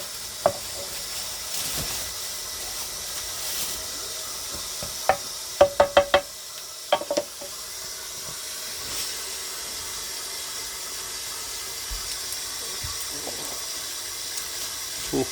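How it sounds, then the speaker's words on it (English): Sauerkraut steaming and cooking in a pot gives off a steady, soft hiss throughout, with a few brief clinks and knocks of kitchenware near the middle. "I'm gonna let this steam and cook for a while"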